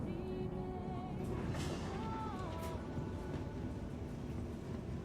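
Tram running in the Star Citizen video game, a steady rumbling rail drone with shifting tonal whines, moderately loud and continuous throughout with no talk.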